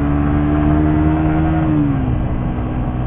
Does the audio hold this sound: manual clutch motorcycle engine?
yes